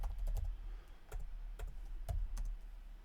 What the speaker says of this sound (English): Hear me typing right there?